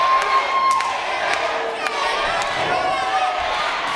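A wrestling crowd at a Global Championship Wrestling show cheers and shouts loudly and continuously, with a commentator talking over the roar.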